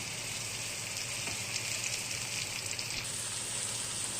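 Goat tripe frying in hot oil with ginger garlic paste, a steady close sizzle that holds evenly throughout with no talking.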